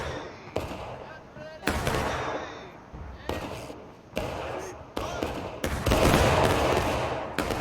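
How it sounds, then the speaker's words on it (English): Musket volleys in the video game War of Rights, a line-infantry battle: several loud, broad crashes of massed gunfire arrive at irregular intervals, with others farther off, and someone talks over the noise. "Feels good to be part of a volley"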